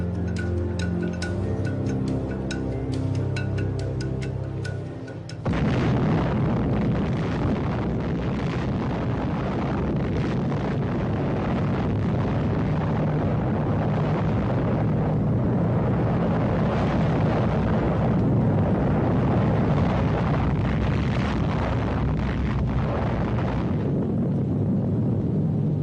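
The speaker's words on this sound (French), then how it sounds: "une bombe à implosion contenant 6 kilos de plutonium" A plutonium implosion bomb detonating at a nuclear test, a sustained deep roaring rumble that swells abruptly and continues loud and unbroken, preceded by a few seconds of musical tones.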